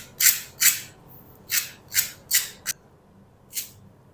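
Crispy fried potato breakfast snack crunches in seven sharp, close bites or breaks, spaced irregularly with quiet gaps between them, and no speech over them.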